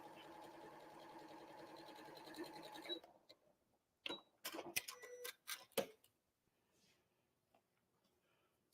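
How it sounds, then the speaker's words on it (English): Sewing machine stitching a quilt seam, a fast rapid needle clatter for about three seconds, then stopping, followed by several sharp handling clicks and taps nearby. "So then I'm just going to sew again the other side."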